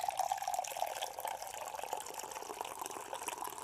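Coffee, an Onyx roast from Fayetteville, Arkansas, poured into a cup on a porch; a steady, moderately close liquid stream with a rising fill tone, no talking over it.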